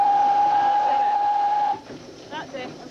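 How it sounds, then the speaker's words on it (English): A steam train whistle sounds a loud, steady shrill blast for nearly two seconds and then cuts off, leaving faint background hiss and brief voices. "Blow the whistle."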